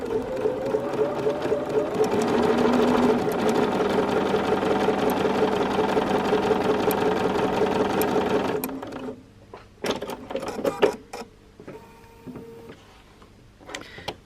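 A Bernina sewing machine stitching a quarter-inch seam in quilting fabric runs steadily and loudly for about eight seconds, with a fast rhythmic mechanical chatter. It then stops, leaving scattered clicks and handling sounds.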